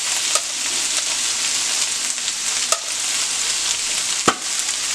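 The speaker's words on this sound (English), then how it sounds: "all we're going to do is just take our salt and mix that in there" Sloppy joe meat sizzles steadily in a pan as salt is stirred in, with a few sharp scrapes and clinks of the utensil against the pan and no talking.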